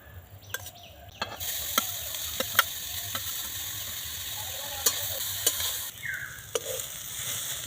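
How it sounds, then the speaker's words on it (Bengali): Grated carrots frying in ghee in a kadai, a steady close sizzle broken by sharp scrapes and clinks of a stirring spoon against the pan, with no talking. "গ্রেট করে রাখা গাজরগুলো এবার ঘিয়ের মধ্যে দিয়ে দেবো"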